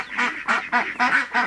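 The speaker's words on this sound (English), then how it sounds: "we got some ducklings" Five quick, rhythmic quacks in a row, fairly close and clear, from a small group of ducklings on a pasture farm, with no talking.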